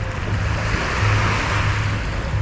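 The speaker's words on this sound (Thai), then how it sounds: "นี่คือบรรยากาศหาดจอมเทียนในตอนเย็นๆ" Waves washing onto Jomtien Beach in Pattaya on an evening, a steady broad surf roar with low wind rumble, continuous and fairly loud with no voices.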